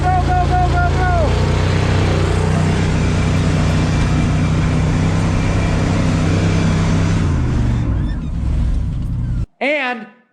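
Engine of a 1976 GMC C15 squarebody pickup roaring at high revs after a neutral drop, loud and close, holding a strained bouncing pitch before cutting off abruptly near the end, with shouting voices over it.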